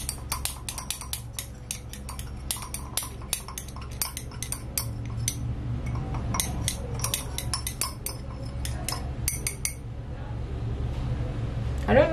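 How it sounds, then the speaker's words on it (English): A utensil stirs a small 50 ml batch of homemade redness-correcting face serum in a container, giving quick, irregular clinks and taps against the vessel over a low steady background hum. "Okay, so I'm going to stir this."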